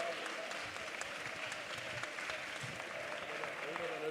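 A church congregation claps continuously at prayer, with many hands forming a steady, moderately distant patter and faint voices underneath.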